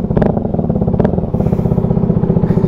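An FKM 3GP single-cylinder motorcycle with an aftermarket exhaust idles up close with a loud, rhythmic, thumping pulse and a couple of quick throttle blips.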